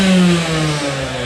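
Two-stroke go-kart engines at the Pikes Peak Hill Climb rev loudly and close by, a buzzing, droning whine that holds steady and then eases slightly over a short burst, no voices.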